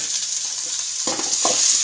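Onions and tomato sizzle steadily in a frying pan, a continuous close hiss broken near the end by a few scraping stirs of a spoon.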